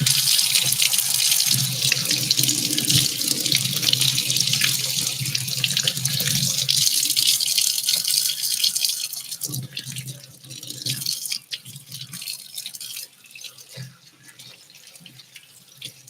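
Cold tap water running into a sink while leeks are washed layer by layer, a loud continuous splashing stream that thins and quiets toward the end, with intermittent drips and handling sounds.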